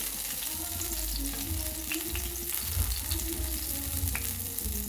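Green chillies and garlic frying in a pan give a steady, dense sizzle throughout, with soft scraping and stirring clicks and a low hum from the stove beneath.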